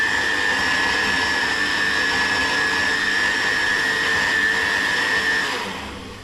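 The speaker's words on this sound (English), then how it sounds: "my cycle, okay, of the blender is quite long, so I didn't need to do that long" A kitchen blender whirs steadily as it purees a cottage cheese flatbread mixture, a loud, constant motor drone with a high whine that holds for about six seconds and then begins to wind down.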